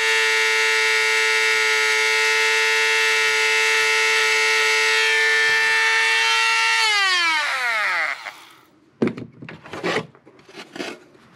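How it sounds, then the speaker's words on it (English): Dremel rotary tool grinding a plastic radiator extension cover on a 2020 Mustang EcoBoost HPP, a loud steady high whine that winds down near the end, followed by a few short bursts of grinding. "On second thought, I'm gonna go get the Dremel."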